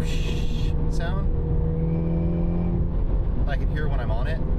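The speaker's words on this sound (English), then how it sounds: "It's got a little bit of a whistly sound, like a whoosh sound." A 2024 Mini Cooper Clubman JCW with a Dinan exhaust gives a loud close engine drone with a whistly, whooshing tone, rising and falling as the revs change, with sustained tonal hum between.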